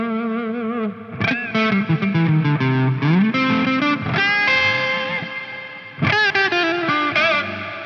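An electric guitar played through a Neunaber Audio Expanse reverb pedal rings out in loud, sustained notes and bent, sliding phrases with a gritty, driven tone and lingering tails, with no voices.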